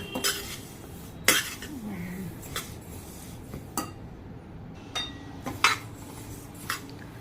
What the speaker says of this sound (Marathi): छान असे आता तीळ भाजून झाले।